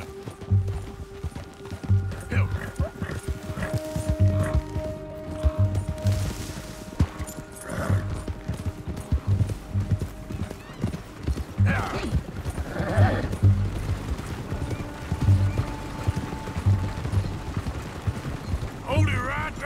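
A horse gallops in the Western video game Red Dead Redemption 2, its rhythmic hoofbeats pounding steadily under a game soundtrack and ambient noise for a sustained stretch.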